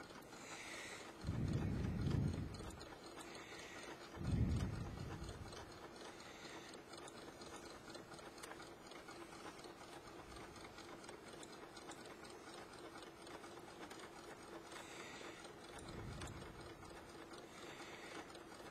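Sewing machine stitching decorative stitches on an elastic waistband at slow speed, giving a steady, soft mechanical ticking, with a few louder low thumps near the start and one later.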